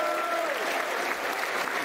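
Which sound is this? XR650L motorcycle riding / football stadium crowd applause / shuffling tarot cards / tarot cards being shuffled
football stadium crowd applause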